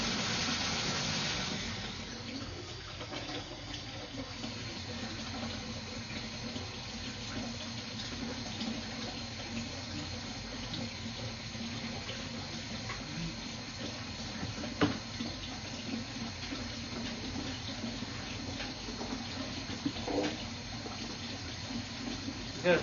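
Water gushing into a sewer pipe during a camera inspection: a steady, close, full rushing flow that stays loud throughout, with a few small knocks and no clear talking.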